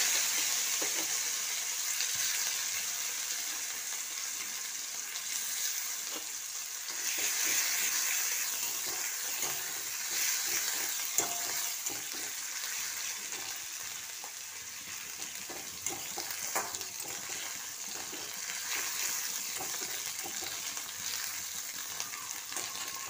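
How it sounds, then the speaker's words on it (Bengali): Mashed cauliflower frying in oil spiced with cinnamon and dried red chillies sizzles steadily, with occasional stirring scrapes and crackles rising and falling, no voices present. "এবার এই তেলে আমি ম্যাশ কপিটা দিয়ে দেবো।"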